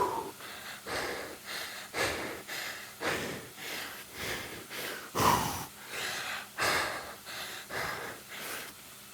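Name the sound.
heavy breathing during indoor cycling workout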